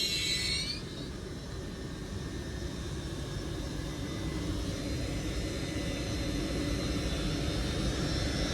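An Avanti West Coast train runs through Warrington Bank Quay station with a steady, loud rumbling roar, and a brief high squeal at the very start.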